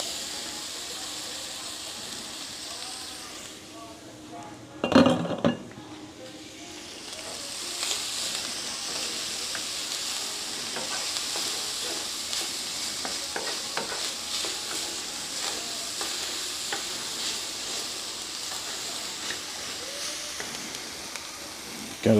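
Garlic and sausage fry in a pan for baked penne, a steady sizzling hiss with a loud clatter early on and ongoing stirring scrapes throughout.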